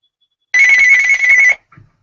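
A telephone rings with an incoming call, one loud, close electronic ring tone lasting about a second, followed by a short fainter blip, with silence before it.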